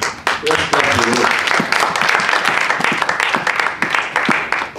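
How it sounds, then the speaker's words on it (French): A church congregation at a teaching on repentance applauds for the Lord, sustained loud clapping from many hands filling the room, with brief voices rising over it. "Applaudissez pour le Seigneur."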